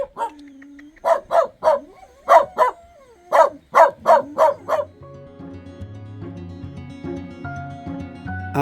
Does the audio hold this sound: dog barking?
yes